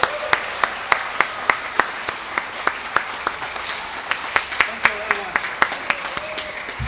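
Scattered, fairly slow clapping at a Lunar New Year celebration honouring the event organiser: a dozen or more distinct claps in an even rhythm, moderately close, with a voice speaking faintly underneath.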